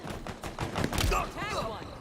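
Short bursts of machine gun fire in the video game Halo Infinite, a few quick rattling shots, moderately loud, with announcer-style speech overlapping near the end.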